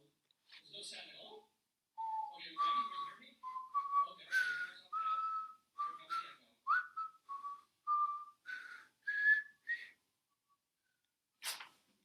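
A man whistles Auld Lang Syne for New Year's Eve: a clear, close melody of short, separate phrases with brief pauses, ending in a sharp, breathy burst.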